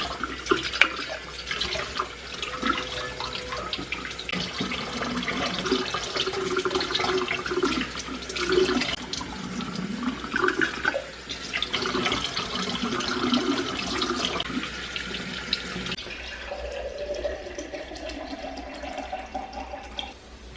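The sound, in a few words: tap water refilling a drinking container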